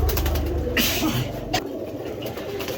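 A pair of Putul Gorra pigeons coo close by, a throaty rolling call that carries over a busy background hum.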